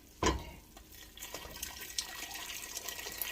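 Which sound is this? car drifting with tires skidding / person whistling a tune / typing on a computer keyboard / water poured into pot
water poured into pot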